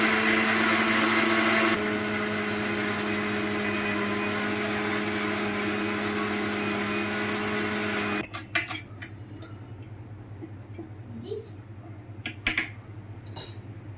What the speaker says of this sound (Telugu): ఇప్పుడు వీటిని అయితే గ్రైండ్ చేసేసుకుందామండి చక్కగా మెత్తగా అయితే గ్రైండ్ చేసుకుందాం